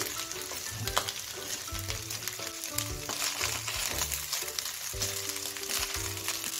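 Cooked, cooled rice being mixed in a pan for veg fried rice, with a steady frying sizzle and repeated thuds and scrapes of the spatula at a loose rhythm.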